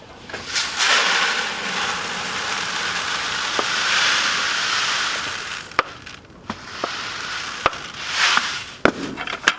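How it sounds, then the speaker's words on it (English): Rolled oats poured into an empty bucket make a dry, hissing rattle that runs steadily for several seconds, then trails off into a few scattered clicks and taps. No one speaks. "Pour some oats in there."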